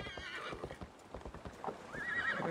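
In Assassin's Creed Valhalla, a horse's hooves clip-clop in a quick irregular rhythm, then it whinnies loudly near the end; nobody speaks.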